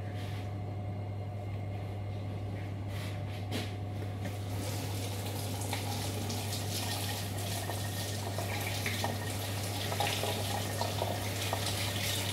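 Water runs steadily from a kitchen tap over raw chicken in a sink, a continuous close splashing rush with a constant low hum beneath it and no talking.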